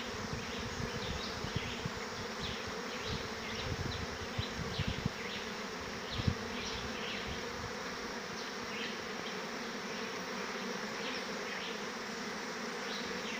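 Many honey bees of a swarm fly into a swarm trap in sunshine, producing a continuous, even droning buzz near the listener, with occasional louder passes of single bees over the constant hum.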